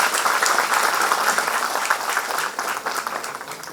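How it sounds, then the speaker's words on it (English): Steady, dense audience applause for chief guests at a pharmaceutical conference, sustained clapping from many hands throughout, tapering slightly toward the end. "can we have a round of applause for all our chief guests and guests?"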